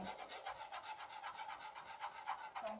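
A spoon stirs gluten-free choux pastry dough as flour is worked into melted margarine in a saucepan, a faint rhythmic scraping and rasping repeated in quick strokes, with no talking.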